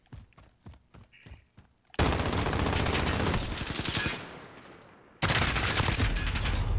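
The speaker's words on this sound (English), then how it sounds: "it's time to use my good gun" Sustained automatic fire from an M13 rifle in Call of Duty Modern Warfare. Two long, loud bursts come after a few quieter footstep-like taps.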